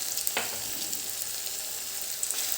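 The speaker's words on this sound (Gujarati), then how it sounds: "હવે આને આપણે લાઇટ બ્રાઉન થાય ત્યાં સુધી એને સાંતળવાનું છે" Chopped onion sautéing in oil in a pan for Gujarati green dal, a steady close sizzle running throughout with a brief stir clatter near the start and no talking.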